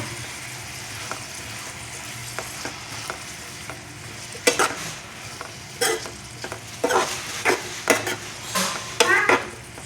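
Cauliflower curry with salt being stirred in a pan: a steady frying sizzle runs throughout, joined in the second half by repeated scraping and clanking strokes of a spoon against the pan, close and fairly loud.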